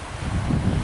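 Strong storm wind blowing at a lake, a loud, steady roaring buffet against the microphone with low rumbling gusts, no voices.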